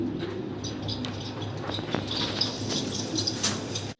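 Pigeons at a breeding loft, a male and female pair of Andalusian birds, coo softly in a low continuous murmur under steady background noise, with no talking.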